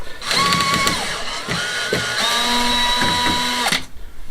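Power drill backing out crosshead screws in short whirring bursts, each spin rising and winding down, several separate runs close by.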